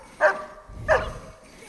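A search and rescue dog barks twice, sharp and fairly close, with a short pause between barks and faint background noise.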